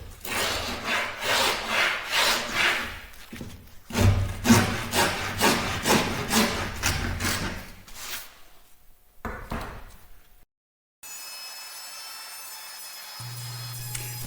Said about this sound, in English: I slow way down to cut through knots.